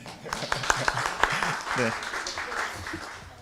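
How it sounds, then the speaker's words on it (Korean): Audience applause at a Korean mission forum, a burst of clapping that builds after a few sharp early claps and carries on steadily, with a voice speaking over the start. "박수 인사하겠습니다."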